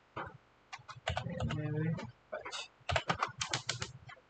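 Keys clatter on a computer keyboard as a hash is typed, with irregular bursts of clicks separated by short pauses. The typing is fairly close and quiet.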